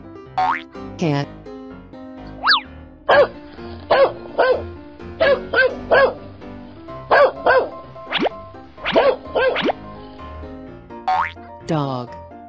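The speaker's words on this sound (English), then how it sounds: "Dog." Cartoonish dog barks and yips in quick bursts, close and loud, with springy boing effects at the start and end.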